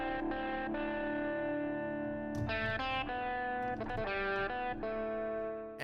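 Sustained, distorted electric guitar chords from a film-score breakdown, run through reverb and EQ, ringing with harmonic layers and a few chord changes, played alone without talk.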